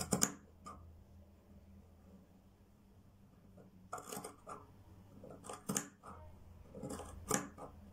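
Scissors snip through macrame cord while a wallet is trimmed, several close, crisp cuts arriving in short bursts separated by quiet pauses.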